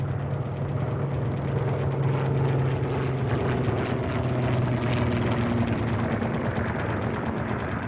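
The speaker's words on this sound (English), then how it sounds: "The Tigers were equipped with obsolete Curtiss P-40s." Curtiss P-40 propeller fighter aircraft engines drone loudly and steadily, a continuous throbbing roar with a slowly shifting pitch and no voices.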